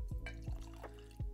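Water drips into a glass of Bushmills Red Bush Irish whiskey, a few soft, close drops spaced apart in a very quiet room.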